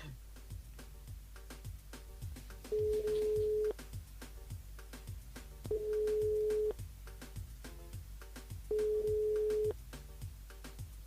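A phone line rings out three times in steady, even bursts while a caller dials a radio contest listener, each tone loud and clear over a busy bed of background music.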